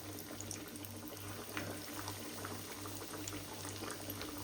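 Hot oil cooking in a pan gives a continuous faint bubbling, boiling-like crackle close by, with a steady low hum beneath and no talk.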